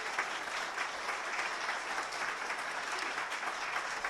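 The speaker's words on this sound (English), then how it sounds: "Give them a round of applause." An audience at a student news awards ceremony claps for the event organizers. The applause is steady and sustained, with dense clapping that holds at an even level and no speech over it.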